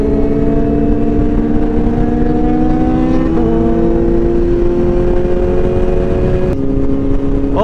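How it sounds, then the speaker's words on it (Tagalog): A Kawasaki ZH2 motorcycle fitted with an Austin Racing exhaust runs loud and close at a group ride, holding a steady engine note whose pitch shifts slightly as it is revved, with no talk over it. "Wow, ganda ng tambucho. Austin Racing, Paul Lexus."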